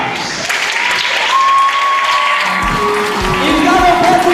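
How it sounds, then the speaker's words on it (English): Audience at a national spelling competition final applauds teachers, dense steady clapping filling the hall with crowd noise and a voice over a microphone heard beneath it. "please and please, clap for all your teachers in the house"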